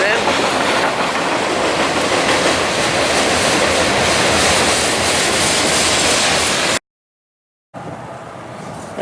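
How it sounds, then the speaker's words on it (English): CSX freight train rolling past on the Hudson or Berkshire subdivision, a loud continuous roar and rattle of cars that holds steady for several seconds before a brief cut, then resumes. "There we go, another freight train."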